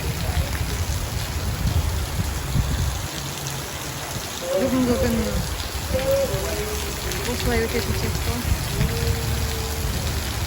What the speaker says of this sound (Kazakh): Жаңбыр деген шелектеп күйіп жатыр.